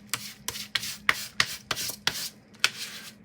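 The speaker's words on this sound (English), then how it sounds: "Let's burnish that down." A bone folder rubs firmly across paper in about eight quick back-and-forth strokes, each a crisp close-up scraping swish with short pauses between.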